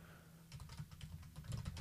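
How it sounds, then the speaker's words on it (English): Soft, quick clatter of keys on a computer keyboard, an irregular burst of taps following a short quiet pause, faint and close with no voices. "it's tough to type on camera"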